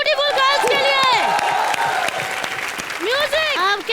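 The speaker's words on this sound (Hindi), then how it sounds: "एक बार जोरदार तालियां ब्यूटीफुल गर्ल्स के लिए" Studio audience applause and cheering on a live Hindi comedy show, a loud sustained burst of clapping with whoops and shouts, a host's voice speaking over it at times.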